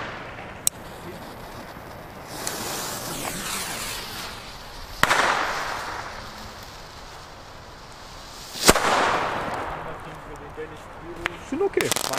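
Firecrackers from an Xplode Mega Pack family assortment go off outdoors as a few sharp, scattered bangs and pops, mid-distance, over steady background noise and crackle.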